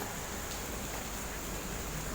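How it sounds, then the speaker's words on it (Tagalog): Heavy rain falls on a rainy afternoon, a steady, even hiss of downpour that holds without a break and sounds fairly soft and distant. "Lakas ng ulan guys."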